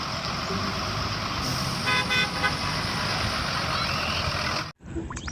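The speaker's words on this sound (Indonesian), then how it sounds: "Yang ini mainan school bus." Toy school bus horn tooting, a loud steady electronic honk sustained for several seconds before cutting off abruptly, followed by faint handling noise.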